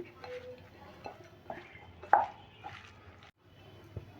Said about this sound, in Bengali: এইভাবে আমি সমস্ত উপকরণগুলো দু মিনিট মতন মাখিয়ে নিচ্ছি